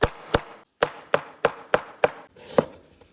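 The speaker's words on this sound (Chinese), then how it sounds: "切点葱姜。" Knife chopping scallions and ginger on a cutting board: about eight sharp, close chops in an uneven rhythm with a short pause midway, no voices.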